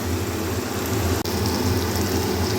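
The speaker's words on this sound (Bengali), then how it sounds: "উপরে চিমনি চলছে বলে শব্দ হচ্ছে" A kitchen chimney hood fan running above a stove while spices are cooked, giving a steady, loud broadband whoosh that continues without pause.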